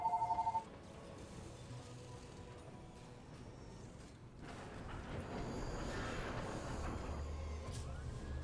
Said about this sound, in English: Oh, sorry for the phone call.